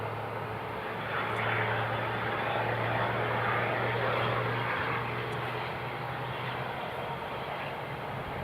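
A SunExpress airliner at Newcastle International Airport holds on runway 07 with a steady distant jet engine drone and a low hum that swells slightly and then eases.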